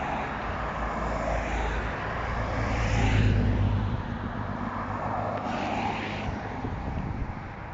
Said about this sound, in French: Il y a toutes les voitures de sécurité qui arrivent.